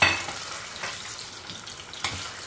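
Boiled potatoes browning with onions in a hot pan give a steady close sizzle and crackle, broken by a few louder scrapes and stirs and no talking.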